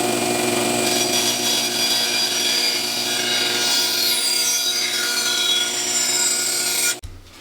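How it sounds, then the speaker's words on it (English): A bandsaw cutting an arc from a piece of wood gives a steady, loud whir with a faint rising whine as the blade works through, then stops abruptly near the end. No one talks. "then I'm gonna take that and cut that on my bandsaw."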